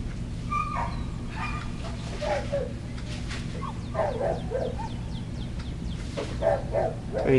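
A dog gives scattered yips, whimpers and short barks over a constant low hum, with a few sharp chirping sounds in the background.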